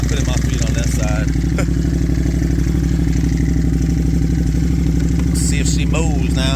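A Can-Am Outlander ATV engine runs loud and close at steady high revs with the wheels spinning, a continuous throbbing drone with clattery mechanical texture and brief voice-like chirps over it.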